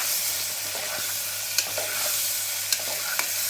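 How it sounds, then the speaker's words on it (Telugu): Prawns and potatoes frying in a pan for a prawn and potato curry, a steady close hiss of sizzling oil broken by a few light clicks of a spoon stirring, with no voices. "ఉప్పు కారం రాసుకొని రొయ్యలు వేగాక బంగాళదుంపలు వేసుకొని అది కలుపుకొని"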